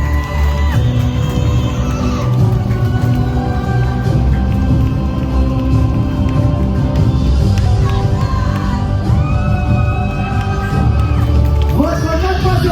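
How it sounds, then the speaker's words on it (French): Audience at the Mademoiselle Guadeloupe 2022 pageant applauding and cheering continuously, a loud dense crowd roar with whoops and yells over background music. "Des applaudissements s'il vous plaît"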